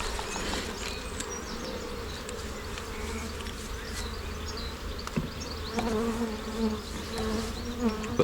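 Honey bees swarm around an open brood box during a hive inspection, a dense, continuous buzz of many insects close by, with individual bees droning louder as they pass near.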